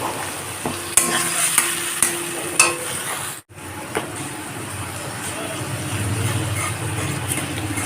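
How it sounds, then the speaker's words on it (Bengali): Tomato and garlic paste sautéing in a pan over a low gas flame for a Bengali bhola fish curry: a soft, continuous sizzle broken by scraping stirs, a short gap, then a gently rising fry, with faint background voice. "এখন গ্যাসটাকে লো ফ্লেমে রেখে ভালো করে কষে নেব যত টমেটোর কাঁচা গন্ধটা যাতে চলে যায়"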